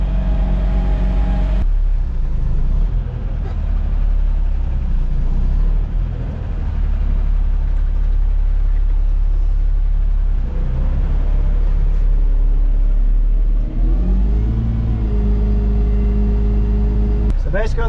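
A stationary farm truck idles steadily while its clutch-driven PTO pump unloads, a loud, continuous low engine drone with slight shifts in pitch and no breaks.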